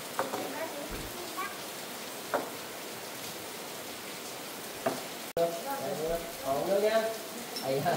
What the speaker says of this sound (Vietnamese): Trời đang mưa to như này